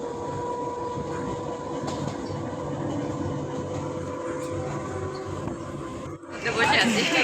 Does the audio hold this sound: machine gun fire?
no